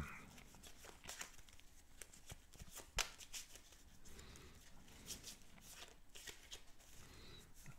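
A Marseille tarot deck being shuffled and cut: soft, continuous riffling and flicking of cards with sharper snaps, close and quiet, with no one speaking.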